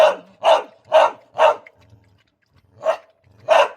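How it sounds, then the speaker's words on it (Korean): Dogs bark at morning feeding time: four loud, close barks come in quick, even succession, then a short pause, then two more sharp barks. No other sounds compete. "짖는다 누가 라이크 아니랄까봐 짖는다"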